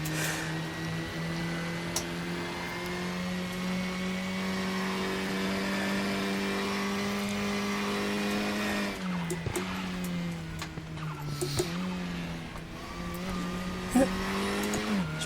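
A race car in the RaceRoom video game at Brno Circuit, its engine droning steadily with a rising pitch while tires squeal as the car drifts through a corner, sustained and loud with a brief lift off the throttle midway.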